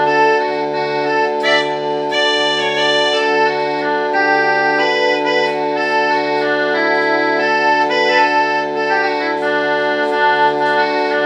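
A bright melody plays over a constant low drone note that sustains underneath throughout, steady and fairly loud, with no voices.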